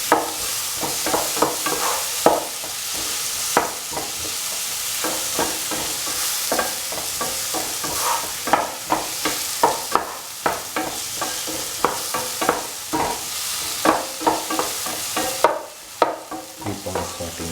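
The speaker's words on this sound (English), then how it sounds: "Keep on sauteing the tomatoes." Tomatoes are sautéed in a pan with salt for eggplant fried rice: a steady, close sizzle with repeated scraping stirs against the pan at an uneven rhythm throughout, with no voices.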